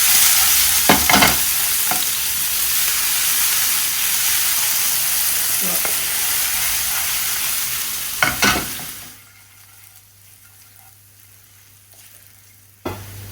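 Smashed garlic and Kashmiri dry chillies frying in a pot, a loud continuous sizzle with a few stirring scrapes that cuts off abruptly, leaving near silence and one last short clatter.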